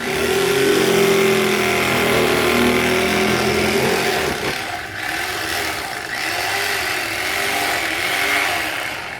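An Outdoor Angler electric fillet knife cuts a fillet off a bluegill, its motor giving a loud, steady buzzing whine that shifts in tone partway through as the blade works.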